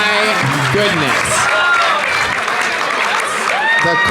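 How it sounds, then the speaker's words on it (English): A live audience at the Kill Tony comedy show breaks into loud, sustained applause and cheering with whoops, while voices carry over the crowd. "The crowd goes wild."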